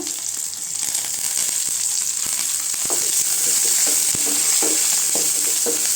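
Onion and curry leaves frying in a pan for a Tamil chickpea kulambu: steady close sizzle with scattered stirring scrapes and crackles, no voices.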